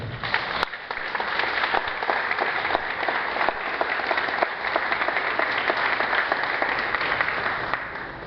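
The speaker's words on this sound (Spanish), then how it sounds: "pido un aplauso para este insigne maestro" Sustained applause from an audience honouring a teacher at a tribute ceremony, steady dense clapping that holds at an even level for the whole stretch with no talk over it.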